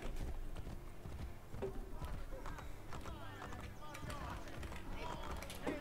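Rapid clip-clop of horse hooves galloping at a steady pace in Assassin's Creed Brotherhood, with game noise and a voice talking over the hoofbeats.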